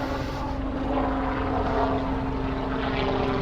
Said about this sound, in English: No, that's a helicopter.